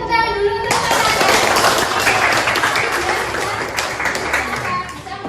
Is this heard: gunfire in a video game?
no